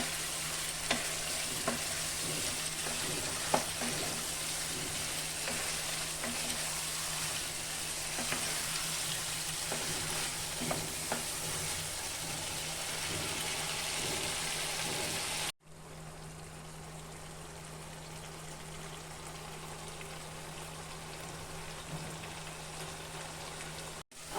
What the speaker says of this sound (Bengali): মশলা টশলা সব ভালো করে ভাজা মেশানো হয়ে গেছে